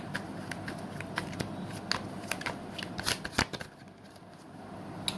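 Tarot cards shuffled by hand during a Libra reading, giving a steady run of crisp riffling snaps and soft slides, with a brief louder flurry partway through before the shuffling trails off quietly.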